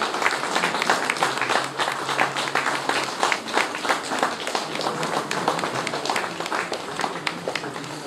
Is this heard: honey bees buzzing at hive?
no